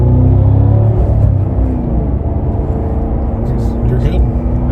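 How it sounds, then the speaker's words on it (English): Loud, continuous engine roar of a 2022 Cadillac CT5-V Blackwing under way in second gear, heard from inside the car as it builds speed, with a voice talking over it. "The engine is just purring."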